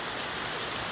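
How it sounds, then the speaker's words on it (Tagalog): Steady rain pours down outdoors in a rural province, a dense, even hiss of falling drops with no voices. "First time ko maligo sa ulan sa probinsya."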